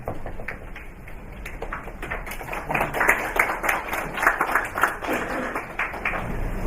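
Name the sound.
audience applauding a speaker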